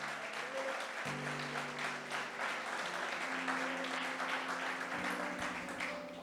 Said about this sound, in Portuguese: Pode aplaudir, se for para Jesus,